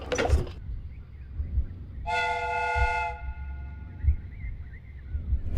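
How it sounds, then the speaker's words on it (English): A replica train's steam whistle in a Sherlock Holmes game sounds one clear, steady multi-tone blast lasting about a second, over a low rumbling ambience, with no talking. "The steam whistle is ready to be used."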